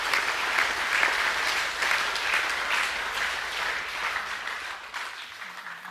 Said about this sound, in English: Could we give those teams a round of applause